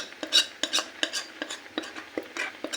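Palm jaggery syrup (lali) being stirred into boiling milk for palm-fruit payesh, with a series of short, close scraping and clinking strokes of a spoon against the pot, roughly one every third of a second, with no talking.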